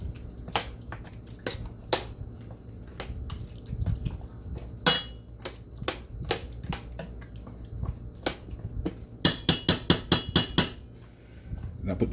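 A metal pot lid clanks down onto a pot of Jamaican-style oxtail amid scattered sharp kitchen knocks and clatters, ending in a quick run of loud metallic taps.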